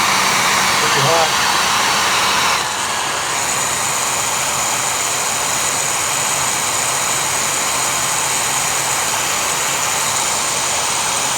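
A hot air blower roars steadily and loudly at close range while drying a watch movement, with a brief spoken moment near the start before the constant rushing whoosh continues alone.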